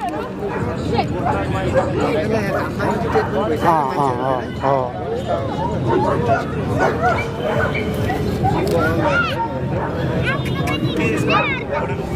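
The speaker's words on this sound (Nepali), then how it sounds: "भोटे कुकुर नेपालको अरिजिनल भोटे कुकुर है नेटिभ हो" A large Tibetan Mastiff barks repeatedly in a busy, noisy setting in Nepal, its deep barks mixing with yips and chatter from people talking nearby throughout.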